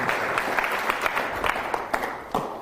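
An audience at a business talk gives a dense, sustained round of applause for speaker Darrin Jahnel, co-founder and CEO of Jahnel Group, the clapping steady throughout and fading slightly at the end.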